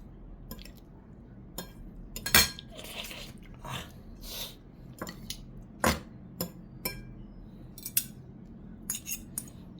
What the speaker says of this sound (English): Oh, the mixing takes a little bit longer.